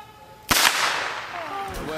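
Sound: starter's pistol fired at start of running race

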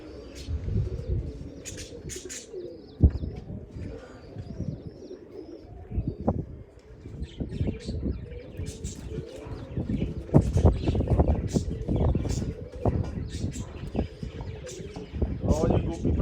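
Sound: pigeons cooing

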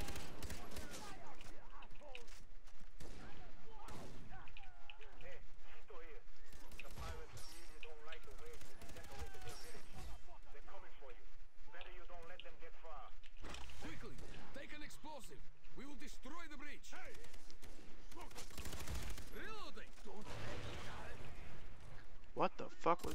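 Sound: explosions and gunfire in the video game Far Cry 3

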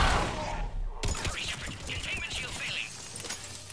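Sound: gunfire from the video game Mass Effect 3

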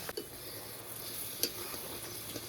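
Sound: stirring egg curry in a pan

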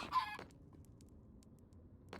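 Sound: chicken clucking in a video game

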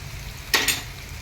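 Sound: tempering spices frying in oil for buttermilk rasam

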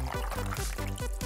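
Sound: pouring milk in a cartoon cooking challenge

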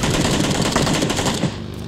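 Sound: gunfire in video game PlayerUnknown's Battlegrounds

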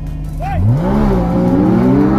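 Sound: Audi R8 V10 engine revving in a video game

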